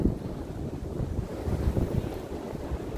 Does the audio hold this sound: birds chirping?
no